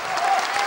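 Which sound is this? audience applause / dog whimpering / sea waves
audience applause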